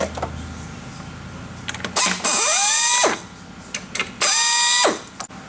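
A power screwdriver backs Phillips head screws out of the bottom of a Vandersteen Classic speaker, with two loud motor whirrs that rise in pitch, each about a second long, and small clicks between them.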